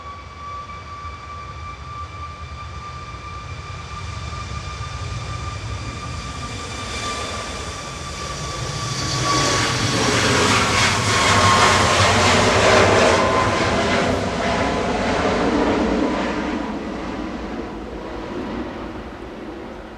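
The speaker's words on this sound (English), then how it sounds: "we've also got Ryanair lining up 9H VUM going to Tenerife, 737 MAX 8 200, flight 4332 from Malta Air. Ryanair departing now." A Ryanair Boeing 737 MAX 8-200 operated by Malta Air, registration 9H-VUM, departs Manchester Airport. A high engine whine builds into a broad, loud roar as it rolls and climbs, then slowly eases off, with no talking.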